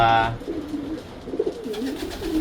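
Racing pigeons in a loft give soft, low cooing that continues through the short moment, with a faint voice briefly audible at the start.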